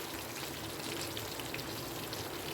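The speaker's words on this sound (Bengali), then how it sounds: "তো আমি এটাকে মিডিয়াম টু লো ফ্লেমে বেশ কিছুক্ষণ ধরে ভেজে নেব" Pabda fish frying in a flat pan over medium-low flame gives a steady, soft crackling sizzle with fine spattering pops, continuous and even throughout, no voices.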